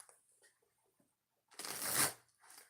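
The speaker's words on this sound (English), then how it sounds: "One more shuffle." Oracle cards get a single strong shuffle, a dense rushing burst after a quiet stretch of faint handling, followed by a brief softer flutter.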